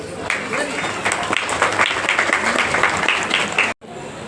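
Audience clapping in a hall to welcome a guest at the opening ceremony of a cooperative savings society branch, steady dense applause with voices mixed in, cutting off abruptly near the end before resuming faintly.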